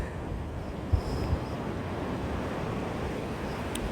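Stormy sea surf at Odesa rolls and crashes in a continuous broad roar after a night storm, with wind buffeting the microphone and a couple of brief thumps early on.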